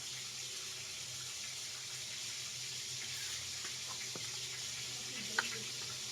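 Steady running tap water as fish and ingredients are washed at a kitchen sink while cooking ginataang tulingan, a continuous hiss with one brief clink near the end.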